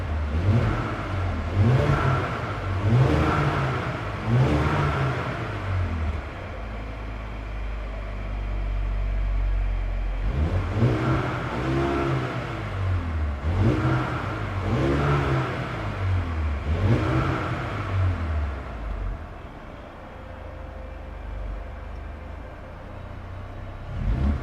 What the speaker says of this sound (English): it comes with the AMG Performance exhaust